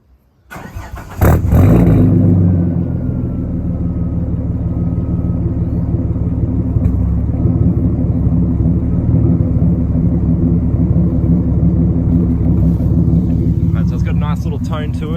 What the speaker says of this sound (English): So I'm just gonna start it up now and let you guys know how it sounds